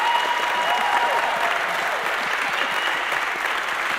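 At a book launch event, the audience breaks into steady, full applause, dense clapping sustained evenly throughout with a brief cheer or voice early on.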